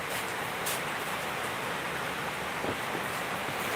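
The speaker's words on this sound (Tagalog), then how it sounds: "Naririnig niyo ba yung ulan?" Steady rain falling outdoors, a dense, even hiss of drops with no breaks, moderately loud and unbroken by voices.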